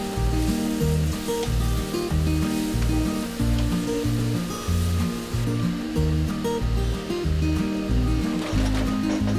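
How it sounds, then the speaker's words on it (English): Marinated mixed seafood fries in a pan for a butter garlic dish, giving a loud, steady sizzle and crackle that runs the whole time with no talking. "Then add the marinated mixed seafood and fry it for about 2 to 3 minutes."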